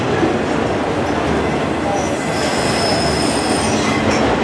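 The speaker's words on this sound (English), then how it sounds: "Yeah, so we still have a long piece of train." A long Norfolk Southern autorack freight train passes close by in Spartanburg, South Carolina, its wheels grinding and squealing in a loud, continuous rumble.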